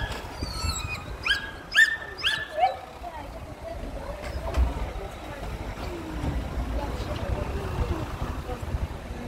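Rescued dogs taken from a forest bark in a quick run of sharp yips early on, then whimper faintly, while a voice talks over a steady background rumble.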